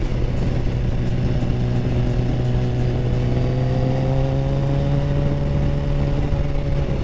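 A 2008 Yamaha FZ1 motorcycle on a test ride holds a loud, steady engine drone with clear tonal harmonics that rise slightly in pitch, mixed with wind and road noise throughout.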